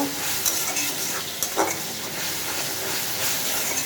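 Vegetables are tipped into a pan of frying masala, giving a loud, close, hissing sizzle with a few soft bumps and scrapes of stirring and no talk.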